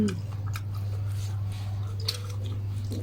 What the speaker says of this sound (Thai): เสียงกรอบของมันแตกทุกคน